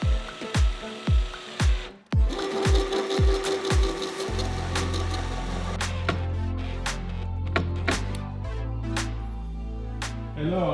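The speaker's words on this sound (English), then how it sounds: "So now we're gonna put some screws in here and make sure it is really," Power drill or impact driver running screws into a camper van build, a series of short sharp bursts at first, then a longer continuous whirring drive with a steady tone and changing pitch, loud and close.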